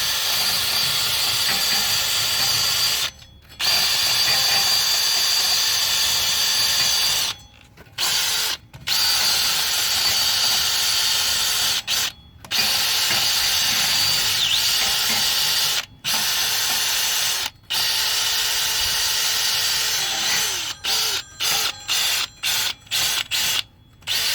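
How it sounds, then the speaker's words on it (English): Power wire brush scouring rear brake parts on a 2014-on Mazda 6 with electric park brake, a loud continuous harsh whirring hiss broken by several short pauses and restarts, no talk. "With a wire brush."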